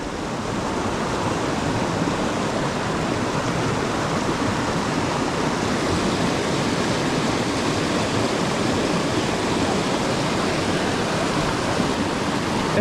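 A small California trout creek rushes past close by, a loud, steady broadband hiss of flowing water that runs unbroken with no voices over it.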